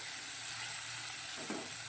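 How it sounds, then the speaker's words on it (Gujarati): Garam masala and ground spices sautéing in a pan for spinach khichdi, a steady close sizzle and hiss with a brief stir scrape near the end, no talk. "સરસ રીતે બધું સાંતળી લેવાનું છે"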